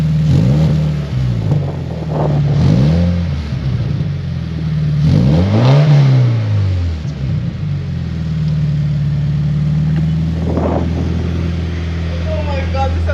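A Scion FR-S fitted with an Invidia exhaust revs in a few rising and falling blips over a deep, steady idle rumble, loud and close, with people talking nearby.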